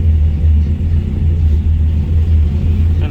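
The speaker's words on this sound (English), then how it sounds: "Got a nice sound to it. It's got a dual exhaust with Flowmasters." A 1965 Ford Galaxie 500 with a three-speed column shift and overdrive idles through dual Flowmaster exhausts. The engine gives a steady, loud, deep rumble that holds an even low throb from start to finish, with no voices.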